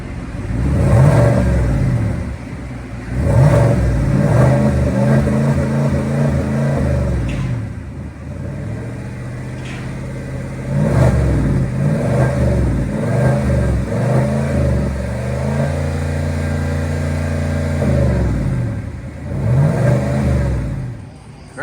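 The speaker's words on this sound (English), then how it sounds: "Got the Borla muffler on there, deleted the resonators." A 2023 GMC Sierra with a 6.2L V8, Borla Atak exhaust, deleted resonators and black tips, revs repeatedly in loud, deep surges and settles to a rumbling idle between blips, close by, with no talking.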